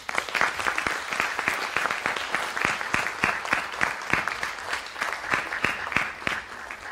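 Sustained applause from an audience filling an auditorium at a white coat ceremony, dense steady clapping with no speech over it for the whole stretch.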